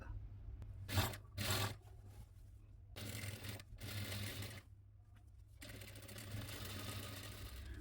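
A sewing machine stitches nightie fabric in loud, rapid bursts of a few seconds each, broken by short pauses, then runs for a longer continuous stretch with a steady low motor hum.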